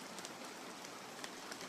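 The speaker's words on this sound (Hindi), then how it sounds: "सिर्फ बारिश की बूंदें और हवा की सरसराहट" Steady rain patters on surfaces with a soft rustling wind at night, a continuous, even hiss of drops at low volume with a few slightly louder splashes.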